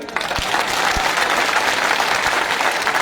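Loud, dense applause from a large crowd at an outdoor political rally in Jammu, steady and continuous with a few sharp thumps.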